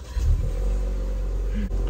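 A Maserati Levante GT mild-hybrid SUV engine starts, heard from inside the cabin as a brief low surge that settles into a steady, deep idle hum, with no talking.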